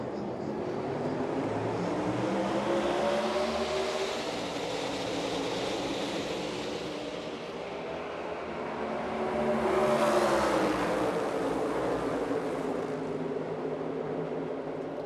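NASCAR Cup Series race cars at a restart in the Coca-Cola 600, a pack of engines roaring and rising in pitch as they accelerate, with the loudest surge sweeping past midway and fading back to a broad drone.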